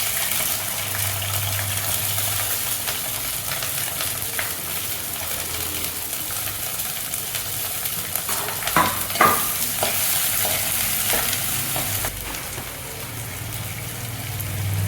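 Steady, loud sizzling of onions and curry leaves frying in a hot pan, with occasional scraping and stirring sounds over the continuous hiss.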